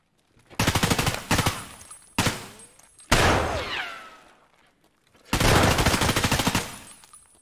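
Bursts of automatic gunfire in Escape from Tarkov, several loud rapid volleys separated by short pauses, with one broken stretch of ringing and echo in between.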